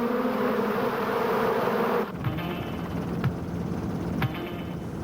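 Hungry honey bees in hives buzz in a dense, steady drone close by, which thins after a couple of seconds into a lighter hum broken by occasional knocks.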